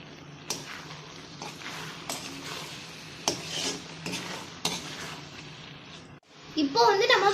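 Prawn masala is stirred in a pan over high heat, the spoon scraping and clattering in repeated strokes under a speaking voice, with a soft sizzle and a brighter burst of sizzling near the end.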